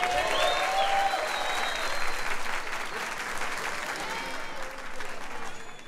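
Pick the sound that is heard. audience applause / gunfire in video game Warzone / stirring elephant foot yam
audience applause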